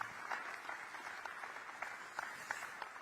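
A gathering of Korean expatriates in Singapore applauds at a meeting with the president, soft scattered clapping that stays fairly distant and subdued throughout.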